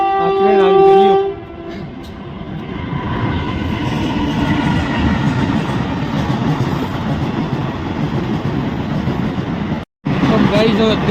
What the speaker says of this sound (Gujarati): થઈ આ ટ્રેન આવી ગઈ લ્યો